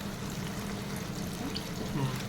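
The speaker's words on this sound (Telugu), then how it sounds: "ఇందులోనే కొన్ని నీళ్ళు పోసుకుందాం" Water is poured into a pan of chicken curry, a soft continuous liquid wash under a low steady hum, brief and close, with faint speech mixed in.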